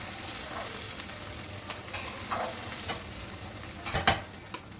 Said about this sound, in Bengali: ডিমটাকে তেলের মধ্যে দিয়ে মেরে চেড়ে স্ক্র্যাম্বেল করে নেব